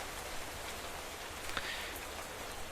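Continuous Minecraft rain, a soft, constant patter and hiss of drops filling the scene, with a few slightly louder drop splashes breaking through briefly.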